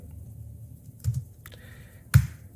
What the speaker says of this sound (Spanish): Te vas a ir a Google y vas a teclear URL encoder.